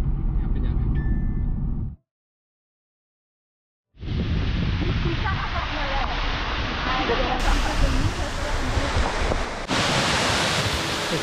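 Roaring waterfall at Tesa village on the Tesa River in Longding, Arunachal Pradesh, a dense, steady rush of falling water heard close up, broken by a brief silent gap near the start.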